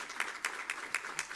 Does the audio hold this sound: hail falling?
no